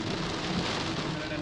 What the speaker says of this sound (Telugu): పెద్ద అంత వర్షం పడుతుంది